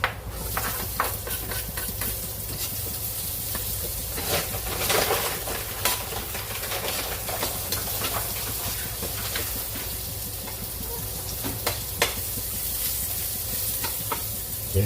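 Onion added to a hot frying pan, a loud steady sizzle and crackle of frying with scattered sharp pops and spatters, close and continuous with no voices.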